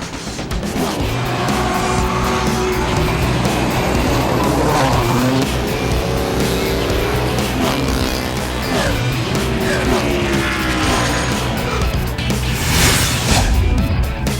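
Sports cars of the American Le Mans Series race around the seaside Long Beach street circuit in 2010, a dense continuous roar of several engines revving and passing, with tire squeal and some broadcast talk mixed in.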